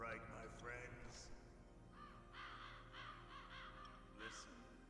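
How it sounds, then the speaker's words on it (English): Ravens cawing in Metal Gear Solid, several harsh caws in short bursts, mixed with game sounds and spoken dialogue. "we're being attacked by ravens, no less"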